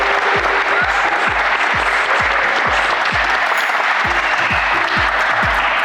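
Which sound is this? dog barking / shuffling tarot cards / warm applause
warm applause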